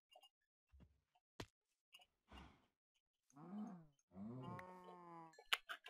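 Cows in Minecraft give a few short, low moos in the distance, spaced apart and faint, amid scattered clicks and soft game sounds.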